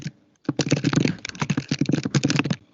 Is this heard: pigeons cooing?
no